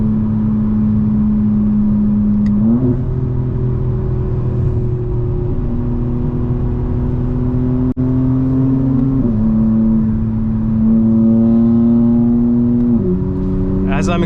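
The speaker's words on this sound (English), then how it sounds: "As I'm accelerating and going higher in the RPMs, I can feel the car starting to slip." A 2025 BMW M4 Competition xDrive engine revs loudly and steadily under acceleration, its pitch climbing through several gear changes, with a close, continuous drone throughout.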